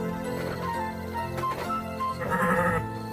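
Sheep bleat repeatedly at close range on a village farm, wavering cries that rise and fall and then overlap into a louder bleat near the end, with no talking over them.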